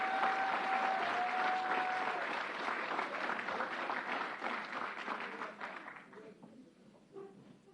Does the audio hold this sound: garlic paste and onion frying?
no